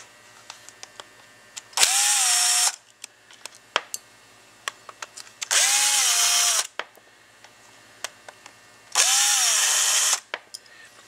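Power tool removing three screws from a Fispa SUP150 pump: three separate whirring bursts, each about a second long with a rising-then-settling pitch, separated by quieter gaps with small clicks and knocks; no speech.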